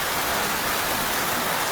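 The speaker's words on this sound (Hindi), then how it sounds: "किस तरह से बारिश जो है वो रुकने का नाम नहीं ले रही" Heavy rain in Jammu pours down in a dense, steady hiss, constant and close with no pauses or voices.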